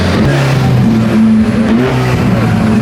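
A Ford Mustang engine revs loudly up close, a continuous deep roar with shifting pitch rising and settling over a few seconds, with no talking.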